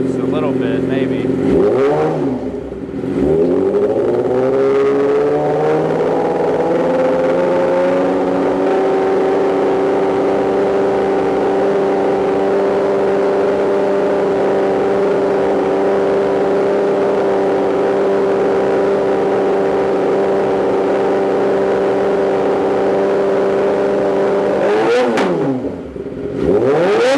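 A 2008 Yamaha R6 motorcycle engine under rebuild revs up near the start, settles into a steady high idle drone, then revs again near the end, loud and close.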